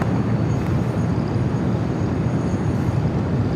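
A UPS Boeing 767-300ER landing at LAX gives off a steady, heavy jet rumble that stays constant and fairly loud throughout.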